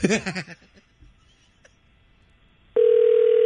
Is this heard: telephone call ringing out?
yes